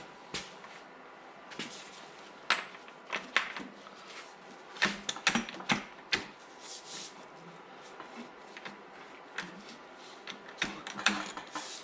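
A socket wrench ratchets on the crank bolt of a Nissan VG30DE engine, giving irregular sharp clicks and metallic clanks with short pauses between them. Close but fairly quiet, with no talking.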